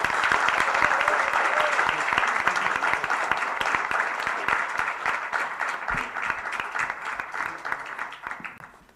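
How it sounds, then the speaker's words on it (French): A roomful of listeners at an agriculture and biodiversity conference applaud the speaker Marc-André Selosse, a dense, sustained wash of clapping that holds steady for several seconds before tapering off at the end. "un tonnerre d'applaudissements pour Marc-André Sellos"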